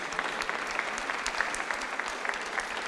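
Sustained applause from an audience honoring the teachers at Maria Pia di Savoia nursery school, steady dense clapping throughout, moderately distant with no talk over it.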